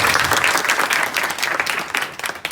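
A crowd at a temple Ram Katha gathering applauds, dense continuous clapping from many hands heard loudly and close throughout.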